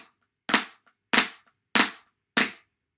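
Four sharp, dry double-stroke flam hits with drumsticks on a book, evenly spaced about half a second apart, with silence between each.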